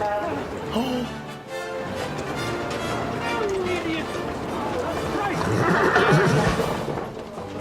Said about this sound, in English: Here he is talking to his horses with his usual tact and grace.